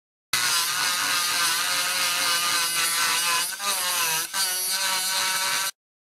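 Hand file rasping on a Hot Wheels 1974 custom van die-cast model, a close, continuous gritty scraping in quick back-and-forth strokes with two brief pauses before it stops.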